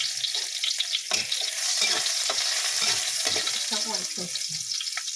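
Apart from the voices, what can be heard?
onions sautéing and sizzling in a pan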